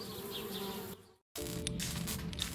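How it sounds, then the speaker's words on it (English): Bees buzzing in the adventure game Lunacy, a dense continuous insect drone close by that cuts out briefly before resuming. "Darn bees."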